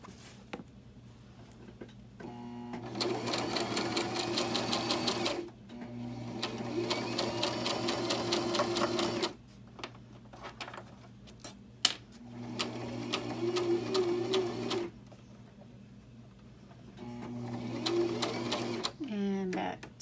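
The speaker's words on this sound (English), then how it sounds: "put it right in the middle, press the foot down. I'm going to start in reverse to lock the stitch" A sewing machine stitches a cushion cover in several bursts of rapid, rattling stitching separated by pauses, close and fairly loud, with a person talking between runs.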